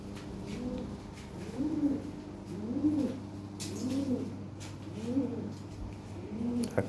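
Repeated cooing of Lahore pigeons, several rolling coos in a steady rhythm over a low background hum, moderately close.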